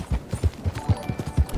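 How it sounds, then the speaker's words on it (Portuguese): Loose horses walk in the Red Dead Redemption 2 video game, their hooves clip-clopping in a steady, moderately close rhythm of soft thuds with no other sounds over them. "Ah, uns cavalos andando solto"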